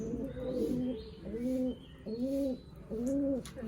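A pigeon coos close by in a steady rhythm, four soft rolling calls in a row over a low background hum.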